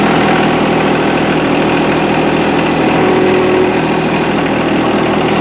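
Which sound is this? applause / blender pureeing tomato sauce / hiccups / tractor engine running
tractor engine running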